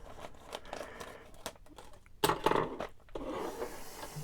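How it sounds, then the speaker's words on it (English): Scissors snip and crinkle through plastic packaging around Playmobil figurines, a few sharp cuts and rustles up close, with a louder crinkling burst midway. "Luckily, I have scissors."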